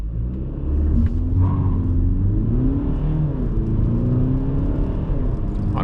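A 2020 Volkswagen Golf 8 in sport mode accelerating at full throttle from a standstill, heard from inside the cabin at night: a steady rising engine drone and road rumble, pitch sweeping up and dipping briefly at gear changes.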